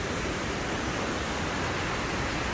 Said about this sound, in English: So anybody want to come out to the waterfall, Cascada is in La CeJa.